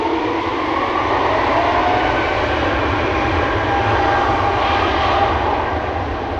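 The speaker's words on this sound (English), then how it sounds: "Now an E2 Embraer is also a bit more quiet than an A330 is" An Embraer E2 jet departs Amsterdam Schiphol Airport, its engines producing a loud, steady, unbroken roar throughout with no voices.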